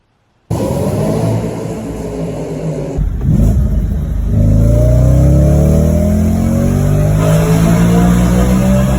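An Audi 4.2-litre naturally aspirated V8 of 414 horsepower starts up loud and close, idles briefly, then revs up with a rising, sustained roar.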